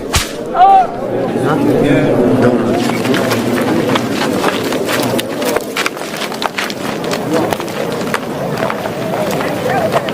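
Sharp whip cracks lash a prisoner in a dramatized historical scene, repeated snapping strikes over a background of voices and commotion.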